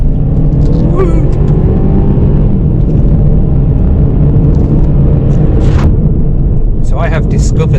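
A Kia Ceed drives along a road in Iceland, its engine rumbling loud and steady with road noise throughout, a few brief knocks and rattles on top.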